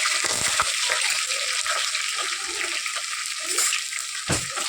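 Curry leaves, green chili and cumin sizzle in hot oil with a steady, close crackling hiss that holds throughout, broken by a few louder pops and spits.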